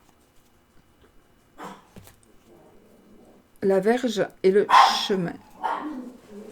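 A passing dog gives several short, close barks in a quick burst, with someone speaking softly before and between them.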